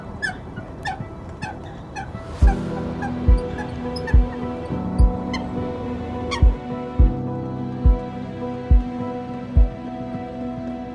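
Greylag geese honk in repeated harmonic calls at a lakeside birding spot, with a steady series of low, regular thumps underneath.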